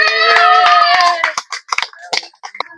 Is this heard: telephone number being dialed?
no